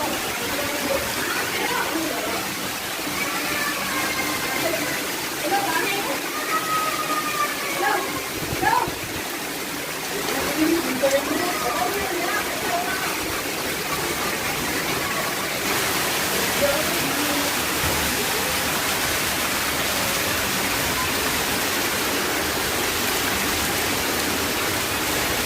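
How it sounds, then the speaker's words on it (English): Heavy monsoon rain streams down house stairs in Hyderabad's Old City like a waterfall, a continuous loud gushing roar, with faint voices and scattered clatter in the first half. "Did a beautiful waterfall on stairs in my house"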